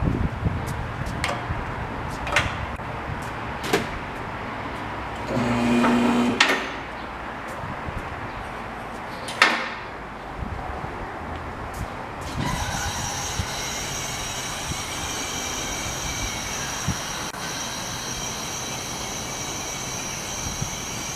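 A vehicle lift lowers a 2015 Nissan Murano in a repair shop, with a mechanical whine, clunks and a steady hydraulic rush that grows louder partway through.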